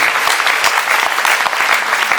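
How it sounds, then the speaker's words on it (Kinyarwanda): Church congregation giving loud, close applause, a dense, continuous patter of many hands clapping with no voices on top. "Imana tuyongere amashyi."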